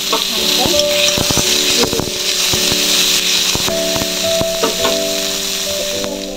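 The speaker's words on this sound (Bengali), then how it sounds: "এই যে তেলটা আছে এর মধ্যে আমি বেগুন দিয়ে যেহেতু রান্না করবো, বেগুনগুলো আমি তুলে দেবো" Eggplant pieces fry in hot oil, giving a loud, close, steady sizzle broken by repeated sharp scraping and clinking of a spatula being stirred against the pan.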